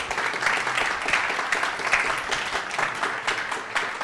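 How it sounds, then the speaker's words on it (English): An audience at a media society panel event on women's sport applauds steadily, a dense, continuous wash of many hands clapping at moderate loudness throughout. "So please give them all a nice round of applause."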